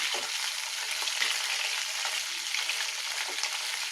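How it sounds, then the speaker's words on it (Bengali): Fresh fish fries in a pan of oil, a steady, fairly quiet hiss and sizzle heard up close without interruption, with no one talking. "মাছটা এক পিঠ ভাজা হয়ে গেছে এক পিঠটা উল্টে দিচ্ছি"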